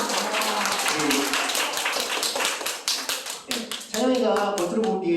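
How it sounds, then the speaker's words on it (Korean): An audience of a youth church service claps together in a dense, steady burst of applause, loud and close throughout, with a voice briefly cutting in near the end. "박수 주세요, 여러분."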